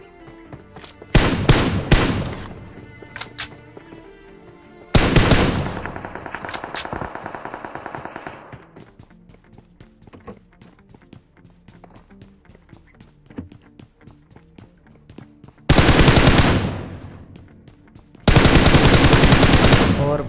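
Loud bursts of automatic gunfire in the mobile battle royale game PUBG Mobile, several sustained volleys separated by quieter stretches with distant game noise.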